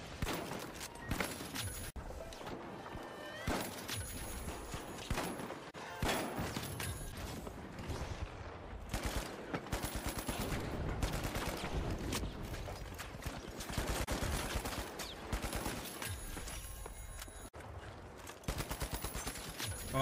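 Gunfire in the video game The Finals, including a revolver, comes as dense, repeated shots and bursts with overlapping impacts and mechanical clatter throughout, fairly constant in level.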